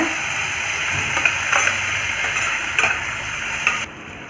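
Onions sautéing with mint and coriander leaves in a pan for tomato rice, a steady soft sizzle with light scraping and ticking of a stirring spoon, quieting near the end.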